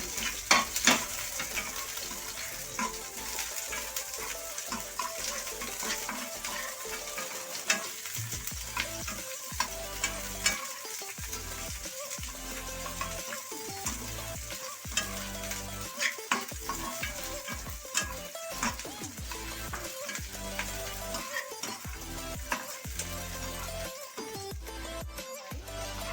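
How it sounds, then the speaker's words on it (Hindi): Chopped onions fry in hot oil in a pan, a steady bright sizzle running throughout with repeated scraping and clinks of a spoon as they are stirred, close and clear with no talking. "प्याज को ट्रांसपेरेंट होने तक भुनेंगे"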